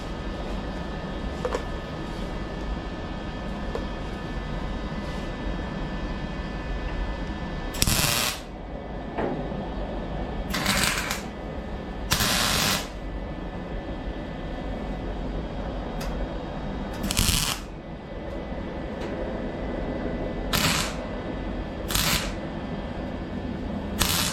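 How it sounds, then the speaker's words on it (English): A welder tacks a patch panel into the left front fender of a 1955 Chevrolet, with short, sharp crackling bursts spaced several seconds apart over a steady workshop hum. "So I'm going to weld this in and then grind it, and it should be a pretty good patch"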